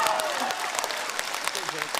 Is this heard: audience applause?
yes